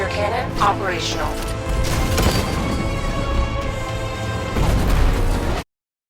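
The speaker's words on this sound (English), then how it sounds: "60mm cannon operational." A tank's 60mm cannon fires in Batman: Arkham Knight among heavy blasts and crashing impacts, with loud booms and clattering debris under game music and effects before cutting to silence.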